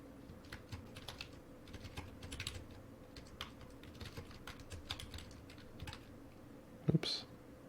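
Quiet typing on a computer keyboard, soft scattered keystrokes in an irregular rhythm over a low background hum, with a slightly louder clack near the end.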